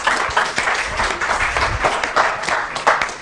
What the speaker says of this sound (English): no need for this applause